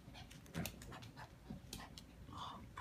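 Puppies play-fight close by, panting quickly and giving small whimpers and scuffles. The sounds are quiet and continuous under a faint background.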